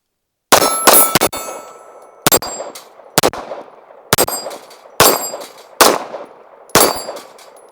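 Archon Type B Gen 2 pistol, unlubricated, emptying a magazine of Arms Core ammunition on a range: about ten sharp, ringing reports in an uneven rhythm, some quick pairs, each with a short metallic decay.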